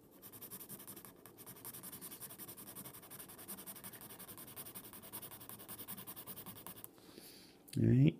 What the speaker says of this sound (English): Watching the teacher shading craft paper is not the most exciting thing that you could be